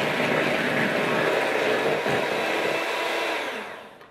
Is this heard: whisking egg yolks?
yes